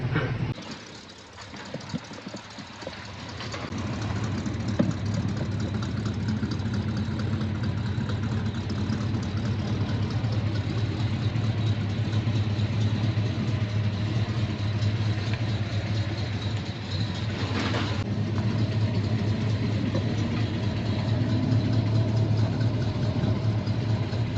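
The engine of a custom-restored 1969 Chevy C10 truck with a 350 idles nearby, a steady low rumble holding even throughout with a brief rise near the end, no talk heard.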